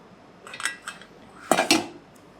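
Turnip pieces and leftover oil go into a frying pan with a few close clinks and scrapes of metal utensils against the pan, two soft taps followed by two louder knocks, with no voices.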